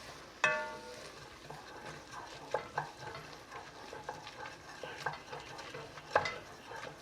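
Onions cooking in a pot as they begin to brown, a soft low sizzle punctuated by repeated clinks and scrapes of a utensil stirring against the pot, fairly quiet and close.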